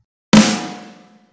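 A single snare drum hit on a real drum kit, a sharp sudden crack after a short silence, then a ringing decay fading out over about a second, close and alone.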